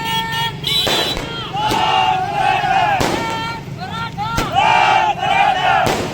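Several sharp firecracker bangs go off a second or two apart over a busy crowd at a Maratha community celebration, with voices and shouting running throughout.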